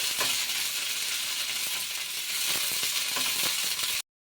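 Ingredients frying in hot oil in a pan for a coriander-sesame chutney, giving a dense, steady sizzle with occasional faint stirring scrapes, close and continuous until it cuts off abruptly near the end.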